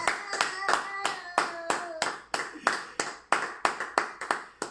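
A church congregation claps hands together in a steady rhythmic beat, around three claps per second, sharp and close, with a brief sung voice at the start.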